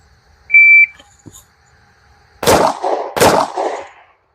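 A Pact Club shot timer gives a single short, clean start beep, followed after a pause by two loud, sharp gunshots from an FN Reflex 9mm pistol, each with a brief ringing tail, about three quarters of a second apart.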